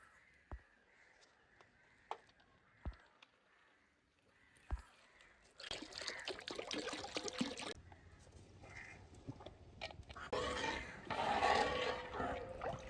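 Milk being strained and poured while making paneer, faint taps followed by a steady liquid rush and splashing that grows louder toward the end, with no talking.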